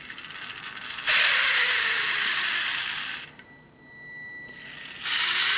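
An Asuro robot kit's small motor and gears whir loudly and close during a self test, running in bursts with a quieter gap and shifting pitch between runs.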